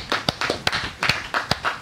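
Sparse clapping from a small audience, several separate sharp claps in an uneven rhythm, close and fairly clear, with no continuous applause behind them.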